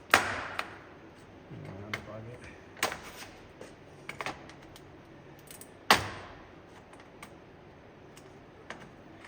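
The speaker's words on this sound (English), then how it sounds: "just prying the Christmas trees out so we can unclip the sensor" Plastic Christmas tree clips are pried out of a 2021 Bronco, producing sharp scattered clicks and snaps with a few louder pops against quiet shop background, no talking.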